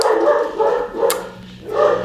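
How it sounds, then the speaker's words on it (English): Dogs barking close by in repeated bursts, several loud barks with short pauses between, plus a brief higher yip. "sorry if you can hear my dogs barking"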